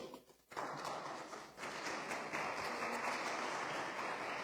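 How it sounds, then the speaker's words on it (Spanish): Applause from a church congregation during a sermon, a broad continuous rush of clapping that swells in after a brief quiet moment and holds steady at moderate distance. "Dale un aplauso a nuestros..."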